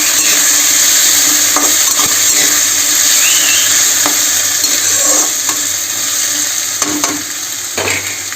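Beans and diced potato fry and are stirred in a hot pan, giving a constant loud sizzle with occasional scraping strokes of a utensil, close up and without talk.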